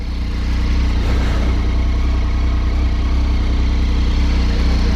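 Triumph Tiger 800 motorcycle idling close by with a standard exhaust can, giving a loud, steady, even engine throb with a gurgling, faintly whistly tone that holds unchanged throughout, with no voices.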